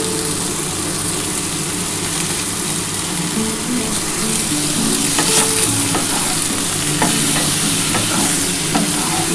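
Loud, continuous sizzling of frying in a pan with salt, turmeric and a little sugar, with stirring scrapes throughout and a faint steady hum underneath.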